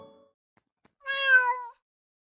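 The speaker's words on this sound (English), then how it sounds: "I heard a cat meowing." A single clear cat meow from the video game Let's perform Christmas Tina, rising and falling over about three quarters of a second, heard alone after near silence.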